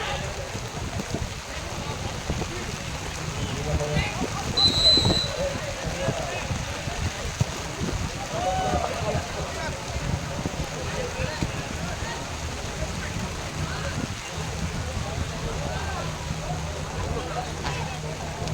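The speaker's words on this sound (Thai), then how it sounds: "ฝนตกและลมแรงมากเลยครับ" Steady, dense rush of heavy rain with gusting wind noise throughout at an outdoor football match, continuous and close, with a faint voice briefly underneath.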